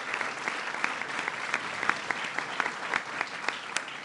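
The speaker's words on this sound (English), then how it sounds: "Please give him a round of applause." Audience applause at a formal diplomatic gathering with officials and members of the diplomatic corps present, a steady dense roar of many hands clapping throughout with sharper individual claps standing out.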